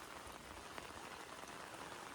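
Steady rain pours down in a dense, even hiss, with no voices, continuous for the whole stretch.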